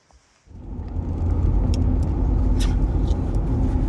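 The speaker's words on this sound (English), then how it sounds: "I'm driving home" A car pulls away after near silence, its engine and road rumble swelling within a second into a steady loud interior drone, with light rattling or jingling sounds on top and no talking.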